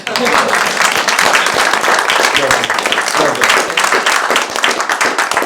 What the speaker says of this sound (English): I did promise Matt and Jack a special round of applause.